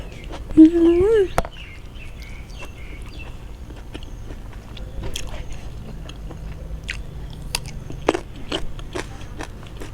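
Spicy mushroom salad is chewed with soft crunching and wet squishing, irregular bites spread close to the mic after a brief voiced sound at the start, with quiet clicks between.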